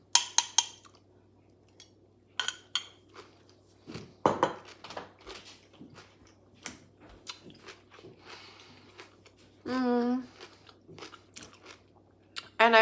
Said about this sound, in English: I gotta have some of the sauerkraut out here because it's 0 points